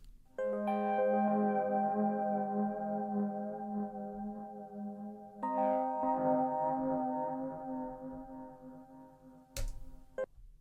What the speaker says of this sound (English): I used the DX7 and ran it through some pedals to give it kind of a lo-fi,